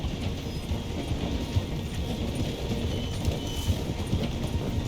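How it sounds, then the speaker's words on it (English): Steady low rumble of a train slowing through a station in the video game Red Dead Redemption 2, with faint rhythmic clatter from the wheels, continuous and fairly close, no voices. "The train is slowing down to go through the station."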